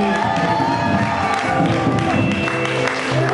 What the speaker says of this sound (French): est-ce qu'on peut donner des acclamations à cet esprit?